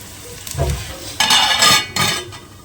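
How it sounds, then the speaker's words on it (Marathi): Onion cooking in a pan on a home stove, with bursts of sizzling and frying noise and a few stirring scrapes and low knocks, close and moderately loud, with no talk. "जरा कांदा जरा शिजू दे चांगला असा झाकण घालू म्हणजे मऊ होईल"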